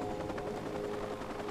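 A helicopter in Watch Dogs drones steadily in the distance, a continuous even rotor hum with a faint tonal whine and no voices over it.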